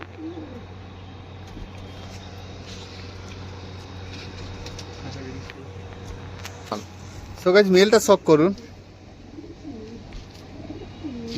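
Adult pigeons kept in a net loft coo in soft, repeated calls, with one louder burst of cooing near the end; someone talks over much of it.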